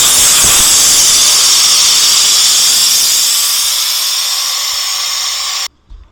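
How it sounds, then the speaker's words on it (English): Loud, steady hiss of air rushing out of a cracked front end loader tire, continuous and close, holding nearly level for several seconds before cutting off abruptly, followed by a brief low thump. "get the air out of this tire just as quickly as I possibly can"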